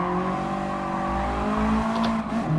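Racing car engine in the GT Sport video game at Suzuka Circuit, droning steadily with layered harmonics and rising pitch, brief tire squeal near the end, loud and continuous with no talk.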